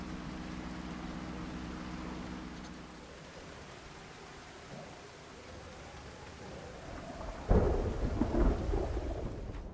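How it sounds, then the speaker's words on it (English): A thunderstorm with steady rain in the Project Zomboid video game, a low rumble of thunder rolling under continuous rain hiss that grows louder near the end. "The day seemed like night as we drove through a thunderstorm the next day."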